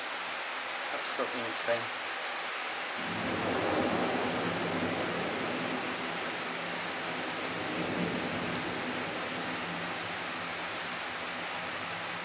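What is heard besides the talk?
heavy rain with thunder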